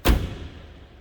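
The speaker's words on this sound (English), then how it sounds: "Listen to the door close." A single solid thud of a 1950 Chrysler Windsor sedan's door shutting nearby, followed by a short fading resonance in a quiet interior.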